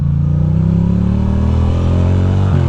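Ducati motorcycle engine, near 50,000 miles, revving steadily up close on a cold, wet, salty winter ride in the rain, a continuous loud mechanical drone with rising pitch and slight clatter throughout.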